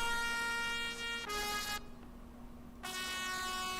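In FL Studio, a synthesized brass melody plays long, sustained, flat trumpet notes with no breath variation. Two held tones are followed by a short gap and then another sustained note, heard clearly with no talking.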